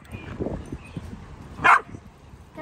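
One of several adopted dogs at home gives a single sharp bark near the middle, close and fairly loud, against faint shuffling and low background noise.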